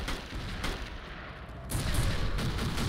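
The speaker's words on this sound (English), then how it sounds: "Mortar's incoming." Mortar fire in the video game Joint Operations Typhoon Rising sounds as a dense, rumbling barrage of explosions and crackling gunfire. It grows heavier and louder in the second half of the short stretch.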